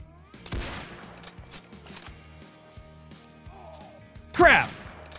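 A hunting rifle fires in the Project Hunt video game on an Africa map: a sharp shot early, then a loud close gunshot near the end, with people talking and game ambience in between.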